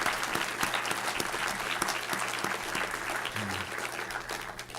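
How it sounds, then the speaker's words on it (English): Applause at an honors convocation thanking the event coordinators, with hearty, dense clapping from a large audience that tapers off slightly toward the end. "may we give them a round of applause and thank them for their good work"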